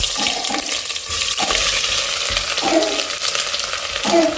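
Onions tossed into hot oil with mustard and fennel seeds for a venison curry, a loud close burst of sizzling and spattering that continues with stirring scrapes.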